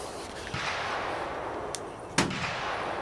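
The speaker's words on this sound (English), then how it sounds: "This is the first time shooting this rifle in a long time." A single sharp rifle report from a Sedgely Krag chambered in .30-40 firing vintage Winchester Western Silver Tip ammunition, a loud crack standing out over steady outdoor wind noise.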